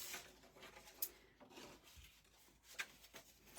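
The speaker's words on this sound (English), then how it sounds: "just burnish those down." Scored paper card pockets being burnished down by hand, a quiet dry rubbing and rasping across the card with a few brief sharper scrapes, faint and close, with no talking.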